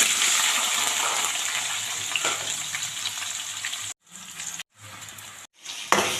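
Onions frying in a pan for potato tomato curry give a loud, continuous hissing sizzle, broken near the end by a few brief silent gaps before it resumes.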